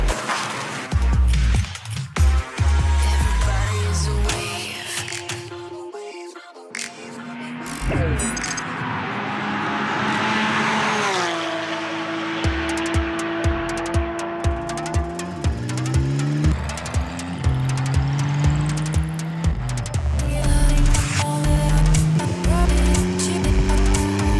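A Porsche 992 911 Carrera S twin-turbo flat-six engine roars high-revving and climbs through gears, with sharp shifts, turbo whoosh and tire noise, loud and continuous throughout.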